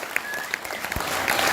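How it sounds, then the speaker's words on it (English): Applause from a packed indoor audience at a political meeting, a short burst of dense, loud clapping. "Give us a clap for that."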